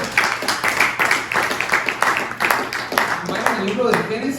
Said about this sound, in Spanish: Den un buen aplauso a nuestro Padre fiel.